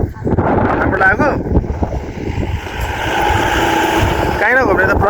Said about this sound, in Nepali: हावा चल्दैछ